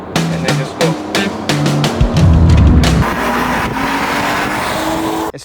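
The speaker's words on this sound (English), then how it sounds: "I can just put it into sport and manual, hit the downshift," A BMW with a swapped 2JZ engine accelerating hard after a manual downshift, the engine note rising in quick revving bursts, then a loud sustained pull that settles into a steady drone close by.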